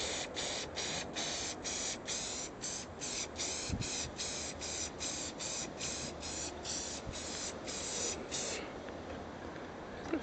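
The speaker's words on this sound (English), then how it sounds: "go to town with the hairspray" A hairspray can hisses in a rapid series of short, even sprays onto a Tamiya JS-2 1/16 scale RC tank model, about twenty quick bursts in a row, followed by a faint steady hiss.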